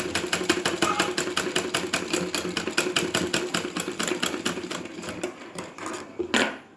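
A sewing machine stitches a blouse sleeve in a fast, steady run of rapid mechanical clatter that slows and stops near the end with a final clunk, close and alone.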